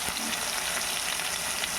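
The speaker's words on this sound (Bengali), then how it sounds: "একটু টমেটোটা ভাজা হয়ে যায়" Tomato frying in mutton fat in a pan hisses with a dense, even sizzle that holds steady from start to finish.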